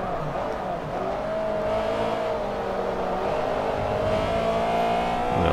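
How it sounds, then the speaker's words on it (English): A race car engine in the video game Forza Motorsport 3 drones steadily and loud, its tone sliding down through a hairpin with a brief throttle blip on the downshift lifting the pitch before it settles again. "I did a slight throttle blip"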